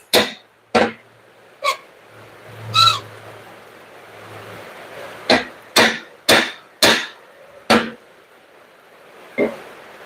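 A hammer strikes the rear axle shaft of a Nissan MT 3000 truck in a series of sharp metallic blows, about ten of them at irregular intervals, close and loud, with a low hum between strikes.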